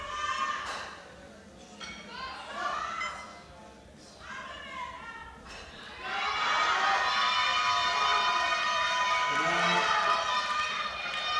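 A crowd at a European sub-junior and junior classic powerlifting championship roars for a heavyweight lifter's final deadlift pull, with scattered shouts swelling into sustained loud cheering and clapping after an announcer talks.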